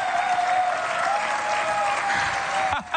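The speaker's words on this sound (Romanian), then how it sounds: "E o sală în picioare care vă aplaude." A theatre audience on its feet gives a loud, sustained standing ovation at a New Year's Eve show, with dense clapping filling the room and a steady tone underneath, easing slightly at the end.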